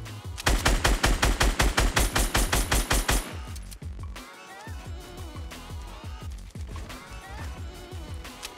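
A SCAR assault rifle fires in Fortnite Battle Royale: a long, evenly spaced, loud burst of rapid shots, then scattered, more distant shots against a quieter game background.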